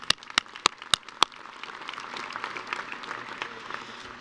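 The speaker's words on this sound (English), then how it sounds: "Let's give them also a round of applause" A few sharp, evenly spaced claps ring out, then a crowd breaks into sustained applause that carries on at moderate volume at a university winter commencement ceremony.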